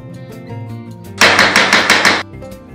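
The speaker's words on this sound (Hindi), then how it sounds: "चम्मच को चलाएंगे" A spoon stirring chicken mince with lightly fried onion in a pan, a dense burst of scraping and clattering lasting about a second, preceded by quieter sizzling and low clinks, close up.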